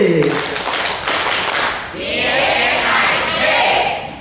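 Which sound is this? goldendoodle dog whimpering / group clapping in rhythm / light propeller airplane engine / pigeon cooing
group clapping in rhythm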